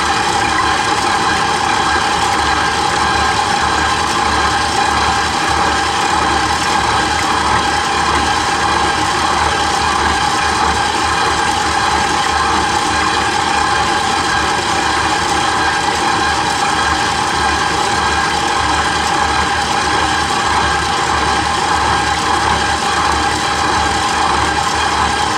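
An electric mixer beats softened butter into blueberry coffee cake batter, its motor giving a steady, continuous whirring hum that runs unbroken from start to finish with no talking.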